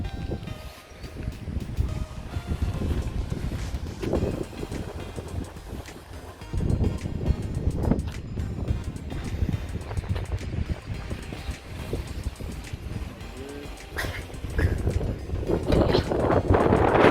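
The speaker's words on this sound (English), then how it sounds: "It is rough, super windy." Strong gusty wind sweeps over a rough lake in Snowdonia, a continuous loud rumble and rush at the microphone with no talking.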